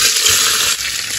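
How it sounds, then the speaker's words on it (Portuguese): Sardines hit hot oil with browning garlic in a pressure cooker, giving a loud, dense, continuous sizzle that dips slightly partway through. "Panela de pressão, alho dourando, vamos jogar nossas sardinhas aqui."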